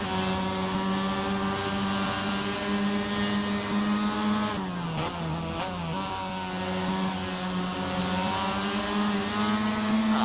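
Formula Mazda and MX5 race cars racing at Montreal in Assetto Corsa, a loud steady engine drone with a brief dip and rise in pitch midway as the car shifts, then a sustained high whine.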